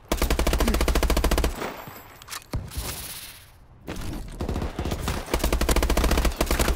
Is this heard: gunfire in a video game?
yes